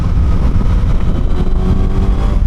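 Suzuki GSX-S 1000 naked sport bike engine revving hard and continuously, a loud close-up roar that holds steady throughout with no talking.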